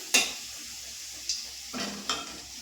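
Garlic fries gently in a pan over a low flame, a faint soft sizzle under a few sharp clinks and scrapes of a utensil stirring against the pan, close by with no voices.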